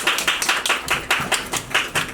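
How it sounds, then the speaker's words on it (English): Rhythmic clapping at an end-of-year certificate award ceremony, about nine evenly spaced, close, fairly loud beats over two seconds, like a small group clapping in unison for a speaker. "Can everyone give a round of applause for Mohammed Asaf?"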